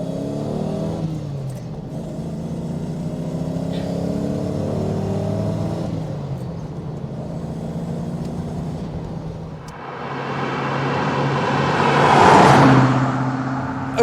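A Rover SD1 Vitesse accelerates up through the gears, its engine note climbing in pitch, dropping at each shift, then swelling to a loud, rising rev near the end, heard close with no speech.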